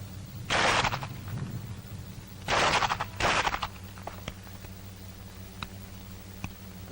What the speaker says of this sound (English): That is the way you use your pistol in battle firing